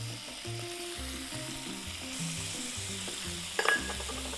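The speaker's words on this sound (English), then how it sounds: "Now we're going to put in our sauce." Sauce hits a hot pan while ramen cooks, a steady close sizzle with a brief louder burst near the end, over a low background hum and no talk.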